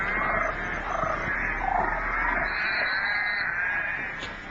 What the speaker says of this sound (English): the software identifies the frog calls